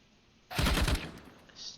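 A brief, rapid burst of automatic gunfire during a Counter-Strike ESEA match, a single loud rattle lasting under half a second, then quieter game ambience.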